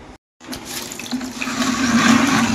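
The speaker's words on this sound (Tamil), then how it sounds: "தண்ணி நிறைய போகுது" Water gushes steadily into a container, the pouring growing louder and fuller as it continues, after a brief silence at the start.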